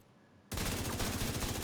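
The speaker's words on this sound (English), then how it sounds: "look at the rate of fire on the St. Elmo's 850" The St. Elmo's 850 rifle in Division 2 opens fire after a brief quiet moment, unleashing a rapid, loud, continuous burst of automatic gunfire.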